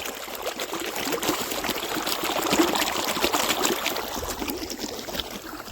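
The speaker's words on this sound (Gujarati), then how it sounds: "પાણી ભબુકારો મારે." Water gushes steadily from a source while vessels are filled on a village trip, a continuous broadband rush and splash that swells slightly midway and holds at moderate, close level throughout with no talk.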